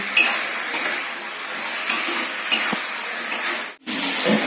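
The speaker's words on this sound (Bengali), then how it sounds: "আমি এই কষে দিচ্ছি" Aloo chicken sautéing in a pan on a gas stove: a steady, loud sizzle and hiss runs throughout, with occasional utensil scrapes and a brief break near the end.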